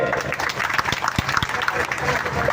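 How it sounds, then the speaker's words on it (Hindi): Crowd applause at a large rally protesting smart meters in Sultana, Jhunjhunu, a mix of clapping and crowd noise with a few sharp thuds, heard over a loud, busy background. "इसलिए जोरदार तालियां आपके खुद के सम्मान के लिए।"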